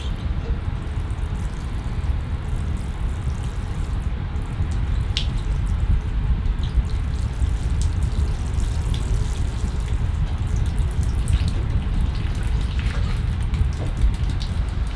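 Water splashes and trickles continuously through the soil of potted ficus bonsai during a thorough spring watering flush, a steady close, rain-like wash with no voices.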